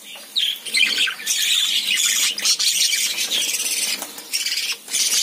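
Budgerigar chicks and adults squawk and chirp in a dense, continuous chorus of shrill, overlapping calls, loud and close, with brief dips between bursts.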